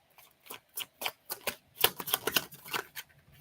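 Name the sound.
shuffling tarot cards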